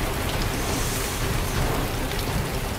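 Steady heavy rain roars during a storm, dense and constant, with faint rumbles that may be distant thunder beneath the downpour.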